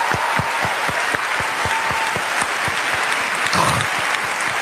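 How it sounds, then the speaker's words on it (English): An audience claps steadily and fairly loudly, individual hand claps rhythmic and close amid a dense background of crowd applause, sustained throughout with a slight swell near the end. "This round of applause makes it all worth it."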